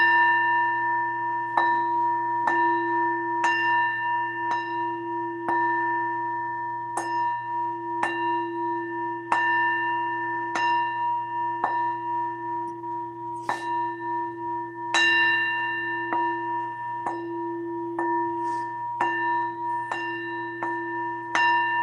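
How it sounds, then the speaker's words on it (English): A bell struck repeatedly at irregular intervals, each hit ringing with a sustained, clear metallic tone that overlaps the next, steady and fairly close, over a low constant hum. "I'm gonna hit this bell real quick"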